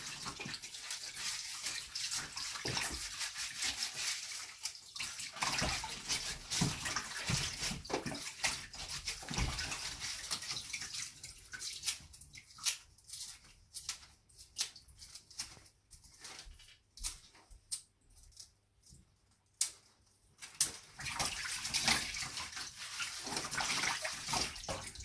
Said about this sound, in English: So I'll finish washing that one, and I'm going to rinse it.